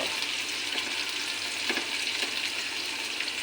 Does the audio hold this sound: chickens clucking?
no